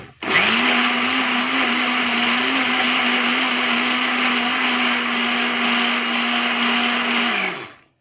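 A blender runs on cake batter in one long, loud, steady whir that starts abruptly, holds a constant pitch for about seven seconds, then winds down and stops.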